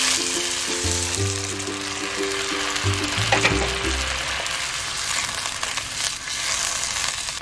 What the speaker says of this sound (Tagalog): Now we can add back our marinade juice that we set aside before.